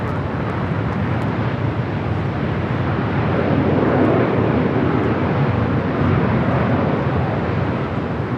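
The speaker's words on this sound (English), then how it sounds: "We're going to go to the United Dreamliner now," A United Boeing Dreamliner on short final into LAX roars as a loud, broad, steady jet rumble that swells slightly midway, with wind across the microphone and no talk.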